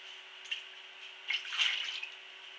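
Water splashes and trickles in short bursts, a close, wet rinsing sound that swells toward the middle and keeps running quietly.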